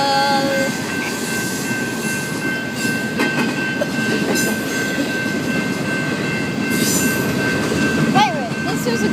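A train rolls past a signalled level crossing with its gates, a steady rumbling wash with faint rail clatter and a brief squeal near the end, loud and close throughout.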